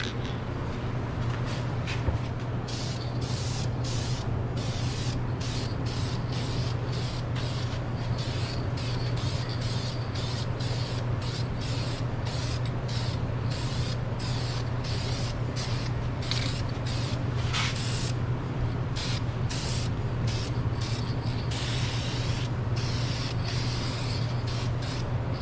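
An aerosol spray can lays paint lightly onto car brake calipers in short repeated bursts of hiss over a constant low hum, close and fairly loud, with no talking.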